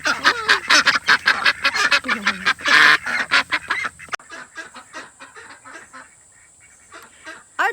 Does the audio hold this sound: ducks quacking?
yes